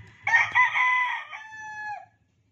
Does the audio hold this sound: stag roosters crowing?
yes